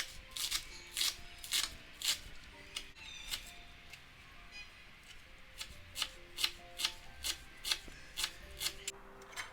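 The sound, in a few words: knife chopping fresh herbs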